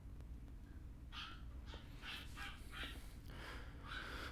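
Dogs bark and whine faintly in the background of the Final Fantasy VII Remake game, giving a series of short, thin yelps and honk-like calls over a low ambient rumble.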